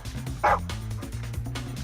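A search and rescue dog gives a single sharp bark on finding a person inside a building, fairly faint and brief, over a low rhythmic background hum.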